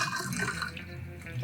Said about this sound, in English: we can pour our drink into the glass